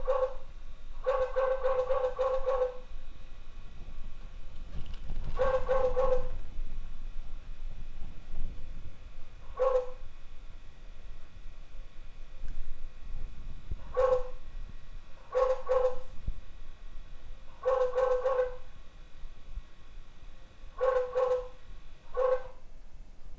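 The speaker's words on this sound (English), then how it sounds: "The alarm will be activated for 15 seconds, and after that the dog barking will stop." Recorded dog barks play from a cassette-player intruder alarm, in short bursts of two or three barks separated by pauses, clear and fairly close over a quiet hiss.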